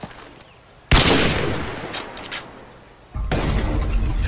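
Gunfire in the video game Modern Warfare 2, a sudden loud blast followed by a decaying rumble with a couple of quick shots, then another heavy burst of fire, close and intense, no talking.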